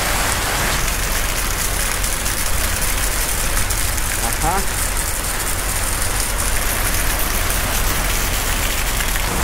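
Heavy rain pours steadily onto city streets, a dense, unbroken hiss close to the microphone, with a brief spoken interjection partway through.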